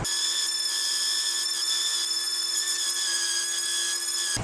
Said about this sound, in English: Now we're just moving right along to sanding each and every one of them.